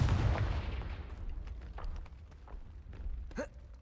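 A Confringo blasting spell explodes in Hogwarts Legacy with a sharp, heavy burst at the start that quickly decays, followed by scattered small crackles and a brief chime-like sound near the end.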